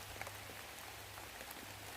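Soft, steady patter of light rain on a surface on Gunung Adeng in Bali, faint and continuous with a low background hum.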